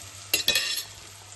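Green chillies frying in a pan for spaghetti with baked beans, a faint steady sizzle broken by two short stirring scrapes near the start, close and quiet with no voices.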